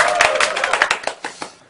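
Scattered clapping from a small audience welcoming the start of a presentation at a community lecture, a quick burst of claps that thins out and fades within about two seconds.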